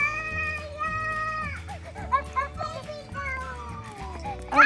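Goats bleat at a farm animal park in a series of wavering, drawn-out calls, mixed with children's voices nearby.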